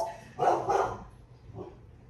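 A dog indoors gives a couple of quick, sharp barks close by, followed by a softer, fainter bark a moment later, heard alone in a quiet room.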